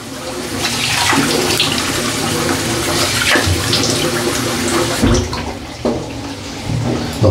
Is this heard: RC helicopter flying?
no